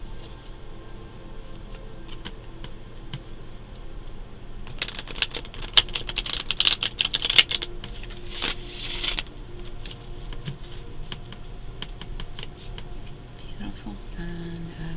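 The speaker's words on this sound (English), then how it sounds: "So now I'm going to shuffle." Tarot cards shuffled close by, a patter of quick riffling clicks that swells into a dense burst midway, then scattered lighter taps.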